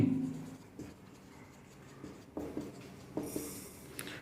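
Marker or chalk writing on a board during a vocabulary lesson, heard as faint, intermittent scratchy strokes and light taps with no voices.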